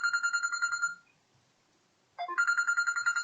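Bright, tuneful mobile phone ringtone plays, cuts off into near silence for about a second, then starts ringing again, loud and close with nothing else heard.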